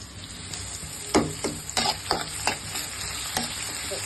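Onions fry in oil for a mustard hilsa dish, giving a steady close sizzle with a burst of brisk spatula scrapes and stirring clacks in the middle, then quieter stirring.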